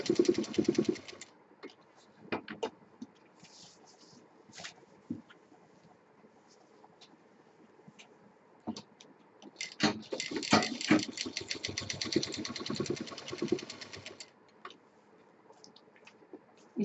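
A sewing machine double-stitches a stylish shoulder bag, its rapid mechanical ticking running in short bursts, then a longer steady run near the end, close and moderately loud with pauses between passes.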